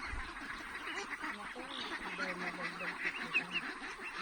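Ducklings of domestic ducks nearly two months old quack in a busy, continuous chorus at close range, with overlapping calls and some bird chatter throughout.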